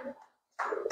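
A Salara pigeon of the Mia Nazir bloodline gives a soft, low coo held close, then a brief pause and a second throaty burst.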